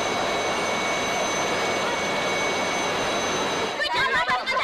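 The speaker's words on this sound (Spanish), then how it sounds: "A principios del 2003, Heriberto filmó la llegada de un helicóptero con trabajadores petroleros." Helicopter arriving with oil workers, a steady loud rotor and turbine roar held throughout, breaking into rhythmic chopping pulses in the last second as it comes close.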